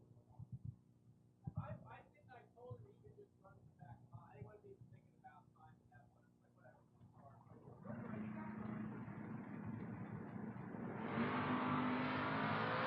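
At a 2024 drag racing event, a red Camaro and an Oldsmobile rev faintly under an announcer's commentary, then a loud engine roar rises and climbs in pitch as the cars launch and accelerate, holding strong to the end.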